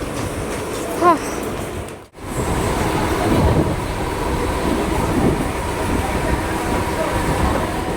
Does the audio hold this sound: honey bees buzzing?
no